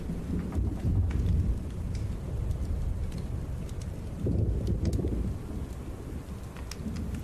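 Thunder rumbles through steady rain, with a low rolling swell of thunder building around the middle over constant patter and a light wind.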